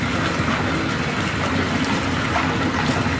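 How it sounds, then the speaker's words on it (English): Steady dense fizzing and bubbling from a bath bomb dissolving in bathwater, a continuous close hiss with a low watery churn that holds even throughout, no voices. "We've got bubbles! It's bubble bath bomb!"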